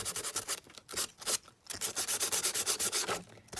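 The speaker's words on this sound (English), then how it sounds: "you can just go back in and sand it down" Sandpaper rubbing over the rough edges of a handmade Victorian-themed junk journal, a close, steady run of brisk back-and-forth strokes with a couple of brief pauses and no talking.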